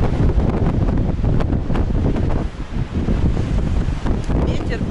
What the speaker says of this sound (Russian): Все ничего, но очень сильный ветер.